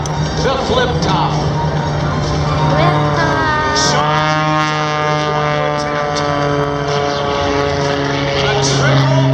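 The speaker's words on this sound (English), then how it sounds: "Watch for the airplane to tumble to the outside." The Oracle Challenger propeller aerobatic airplane performs at the 2014 Miramar Airshow, its engine droning loud and steady the whole time, with the pitch sweeping up and down as it tumbles and flips overhead.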